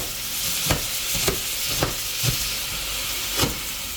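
Bell peppers, jalapenos and chopped frozen onions sizzle steadily in a pan, with a hissing fry punctuated by several evenly spaced stirring scrapes up close.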